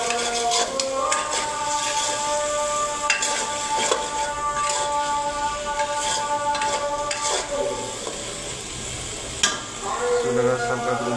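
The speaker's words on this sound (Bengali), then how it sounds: "চুলার আঁচ হালকা করে দিয়ে রান্না করতেছি।" Dried fish curry cooks in a pan on a low-flame stove, giving a continuous close sizzle broken by repeated scraping, stirring and clinking of a utensil against the pan.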